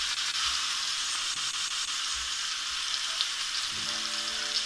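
A ribeye steak sizzling on a grill pan, a dense, even hiss of hot fat that stays close and loud throughout, with a faint tonal hum coming in near the end.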